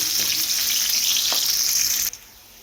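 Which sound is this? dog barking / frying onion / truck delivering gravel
frying onion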